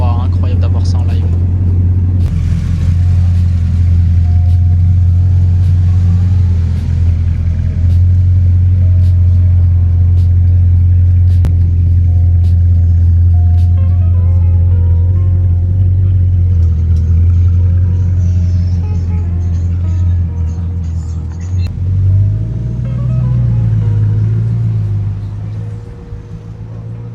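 A Bugatti Chiron's W16 engine idles on a Paris street, a deep steady rumble that holds throughout with a brief rise and dip near the end, while someone talks over it.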